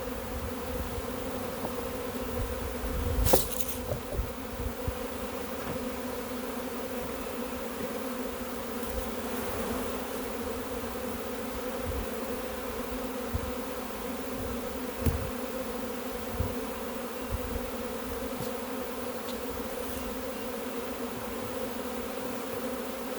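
A honeybee swarm buzzes steadily and close for the whole stretch, a dense continuous hum with a few brief knocks and handling sounds over it and no talking.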